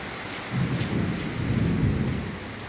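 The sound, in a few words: heavy rain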